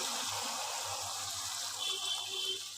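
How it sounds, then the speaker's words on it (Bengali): Water pours steadily into a pan of prawn curry (chingri bhuna), a continuous splashing rush lasting a few seconds without pause. "এবার আমি জল দিয়ে দিচ্ছি"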